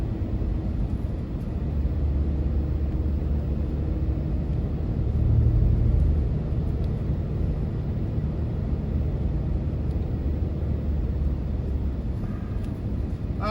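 A truck driving on country roads, heard from inside as a steady low rumble and road noise that swells slightly midway and then settles, continuous and close with no talking.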